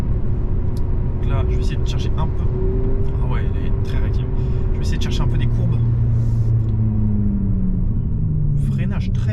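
Electric Abarth 500 driving with its simulated engine sound on, a steady low synthetic drone with rising and falling pitch sweeps under continuous road rumble, while people talk over it throughout.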